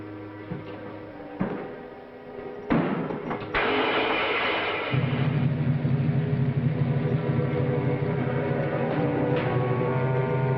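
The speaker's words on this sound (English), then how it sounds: "Start the motor." A motor clunks and catches, then settles into a steady, fairly loud mechanical drone that runs to the end, with no talking.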